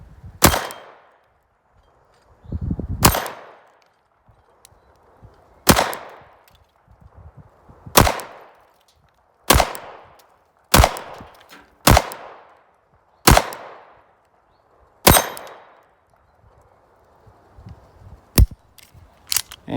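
A Ruger LCP II Lite pistol fires about eleven sharp, loud single shots at irregular intervals of one to three seconds, each crack followed by a short echo, using bulk ammunition.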